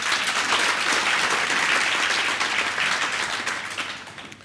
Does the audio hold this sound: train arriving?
no